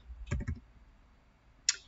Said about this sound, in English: So you go ahead and type in the email address of the person